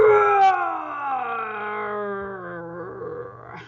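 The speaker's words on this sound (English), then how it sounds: "roar." A huge, toothy lion lets out a single long roar, loud and close, starting strong and sliding steadily lower in pitch over several seconds before fading out.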